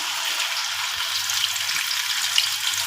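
Half a kilo of chicken frying in a pan, a continuous crackling sizzle with small pops, close and fairly loud, no voices.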